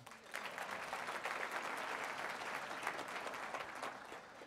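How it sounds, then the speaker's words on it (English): A hall audience at a State of the City address bursts into sustained applause, a dense, even wash of many hands clapping that holds steady for several seconds, moderately distant. "give them a round of applause one more time"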